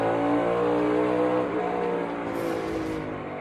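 A NASCAR Cup car at Bristol, its rear sliding through a corner, gives a steady loud engine roar that eases slightly toward the end, with no voices.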